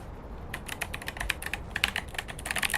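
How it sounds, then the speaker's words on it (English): Keys clack rapidly on an 8BitDo NES-style mechanical keyboard, a close, crisp run of irregular taps that starts after a brief quiet moment and continues without any voice. "Completely NES aesthetic. Mechanical keyboard. Listen to this."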